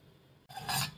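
Soaked jowar (sorghum) grains are rubbed and washed by hand after a 12 to 15 hour soak, producing a close, steady rasping swish of wet grain that starts abruptly halfway through and grows louder.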